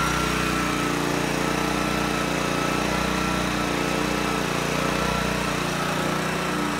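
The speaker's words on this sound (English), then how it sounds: "Might not be the biggest generator out there, but I tell you what, it runs perfect." A small Honda portable generator engine runs steadily and loudly nearby, a constant even drone with no breaks and no voices.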